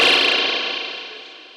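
Reverb impulse response made by physics-based acoustic synthesis: a loud, sudden burst followed by a smooth, dense reverberant tail that fades away evenly over about a second and a half.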